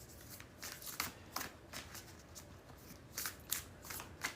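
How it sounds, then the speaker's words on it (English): Tarot cards being shuffled by hand, a quick run of soft riffling bursts and papery flutters, close and fairly quiet, with no talking. "3 more shuffles."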